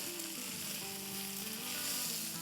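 Chopped ginger stir-frying over a high flame for lettuce wraps, a steady loud sizzle and crackle of frying oil running continuously, close up with no talking.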